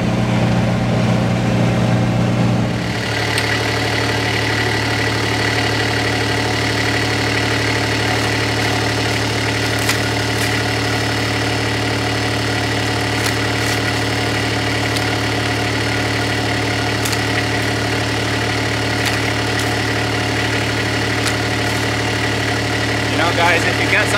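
A Kubota X1100C RTV utility vehicle engine runs steadily, a constant low mechanical drone that holds throughout after a brief shift early on, close and continuous.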